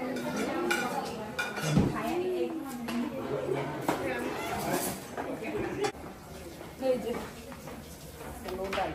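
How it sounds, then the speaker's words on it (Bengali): Cooking pots are pulled out and handled, with clanks and clinks of metal pans and utensils scattered over close, ongoing conversation. "আরেকটা হাঁড়ি বের করো"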